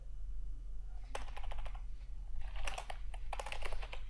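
Rapid bursts of typing on a computer keyboard while composing an Urdu multiple-choice paper, with clusters of close, crisp key clicks over a steady low background hum.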